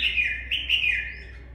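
A red-whiskered bulbul gives a clear, close chirping call, a bright warbling phrase of linked notes lasting just over a second, with no other sounds.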